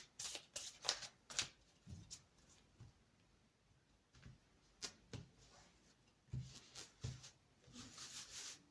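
Tarot cards shuffled by hand before a reading, heard as quiet bursts of riffling and soft flicks in uneven clusters, close and alone with no talk.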